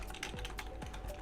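Keys tapped on a computer keyboard while entering a Linux terminal command, a steady run of quick light clicks over a low background hum.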